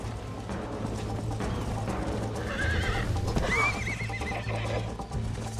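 Horses neigh and whinny with hoofbeats clip-clopping along in a Western setting from the Red Dead Redemption video game, loud and close throughout, with a clear high whinny near the middle over steady galloping.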